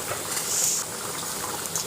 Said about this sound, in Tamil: ஒரு 2 நிமிஷம் நல்லா கொதிச்சிருச்சு.